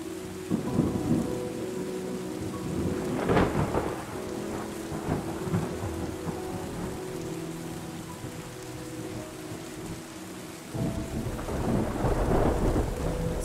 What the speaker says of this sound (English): Last area of land gets reclaimed by the rain.